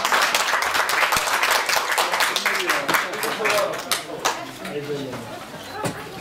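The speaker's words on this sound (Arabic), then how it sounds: "إذن تصفيق" An audience claps at the closing ceremony of a national photography salon in Merouana, Batna. The applause is lively at first and thins out into scattered claps, with people chattering and talking over it.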